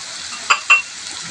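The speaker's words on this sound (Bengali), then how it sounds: "আমি এগুলোকে হচ্ছে একটু কষিয়ে নেব" A pan of chili, cumin and coriander paste sautéing over a faint steady sizzle, broken by two quick, sharp scraping stirs close by.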